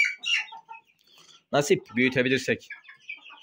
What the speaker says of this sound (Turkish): Üç horozdan bir tanesi.